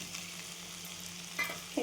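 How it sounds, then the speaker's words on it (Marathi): Cooked peas sautéed in oil with coriander for a quick potato rice give a steady, close sizzle, with a couple of brief stirring scrapes near the end. "हे पण छान परतून घेऊ तेलामध्ये."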